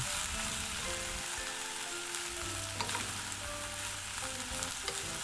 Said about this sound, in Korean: 볶아놓은 야채와 밥이 섞이도록 골고루 어, 잘 비비듯이 볶아주세요